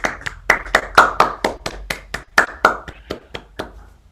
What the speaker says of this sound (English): Let's all give Karoline a warm round of applause